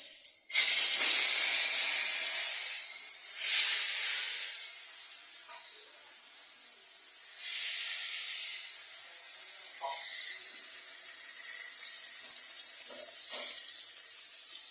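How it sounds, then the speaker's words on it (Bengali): Koi fish frying in hot oil in a wok make a loud, close, continuous hiss that surges at the start and then settles into a steady sizzle. "কড়ার মধ্যে তেল নিয়ে নিয়েছি, কই মাছগুলোকে আমি ভেজে নেবো"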